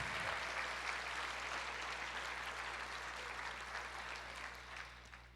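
A church congregation applauds, a steady, fairly soft wash of many hands clapping that holds for the whole stretch and eases slightly at the end.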